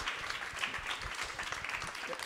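Audience applause fills a public talk on cities, a steady wash of many hands clapping at even loudness throughout, with no voices on top.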